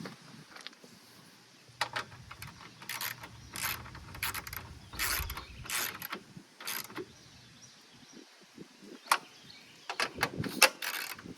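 A ratchet tightens the headlight assembly on a 1996-2002 third-generation Toyota 4Runner, short bursts of close clicking spread across the stretch against quiet background noise, with no talking.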